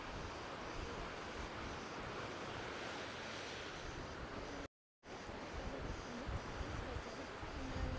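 Waves breaking on a beach on Hydra island, Greece, a steady wash of surf roaring continuously with wind noise on the microphone, broken by a brief dropout midway.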